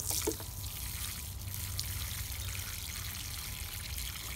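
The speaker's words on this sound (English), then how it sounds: "When watering your container plants, make sure you soak them." Water soaks the soil of a potted fig cutting in a container, a steady soft trickling pour that runs for several seconds, close but fairly quiet over low outdoor background noise.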